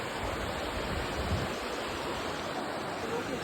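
River water rushes steadily along a volcanic-rock gorge near Burney Falls, a dense, even roar that stays close and unbroken throughout.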